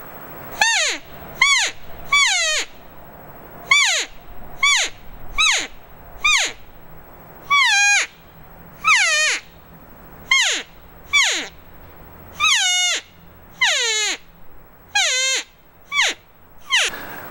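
Matriarch cow call with a thicker reed, blown as a long series of about sixteen loud, close, falling cow-like mews in a steady rhythm, with no other sounds.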